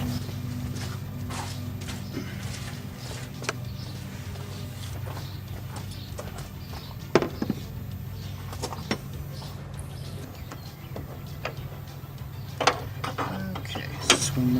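A ratchet tightens bolts on a hood spring bracket of a 2017 Fiat 124 Spider, giving scattered close clicks and ticks over a steady low hum, with no talk.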